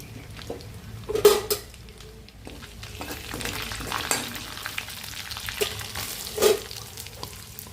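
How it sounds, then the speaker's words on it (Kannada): Cumin seeds and onion frying in hot butter in a pan while making palak paneer, a soft crackling sizzle punctuated by sharp clinks and scrapes of a utensil against the pan, close and without talk. "ಜೀರಿಗೆ ಚಟಪಟ ಅನ್ನೋದ್ರೊಳಗಾಗಿ ನಾನು ಅದಕ್ಕೆ ಈರುಳ್ಳಿ ಸಹ ಹಾಕ್ಕೊಳ್ತೀನಿ"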